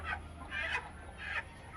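Chickens on a poultry farm cluck softly at a moderate distance, three short rhythmic bursts over a low background hum.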